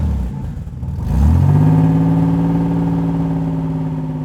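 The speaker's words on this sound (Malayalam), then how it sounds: "ഈ എൻജിൻ ഡയാറ്റ്സു നിർമ്മിച്ച എൻജിനാണ്." An old Maruti car fitted with a Daihatsu-built diesel engine starts after a brief crank and settles into a loud, steady, close diesel idle with a slight rev.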